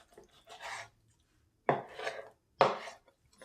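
Knife carving through a turkey where the thigh joins the body, three separate rasping, crunching strokes with quiet pauses between them, close and fairly soft.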